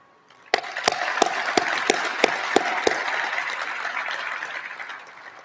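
Audience applause for distinguished guests at a Women in the Air Force exhibit opening, a steady dense wash of clapping from a crowd, with several sharp louder claps standing out early before it gradually fades.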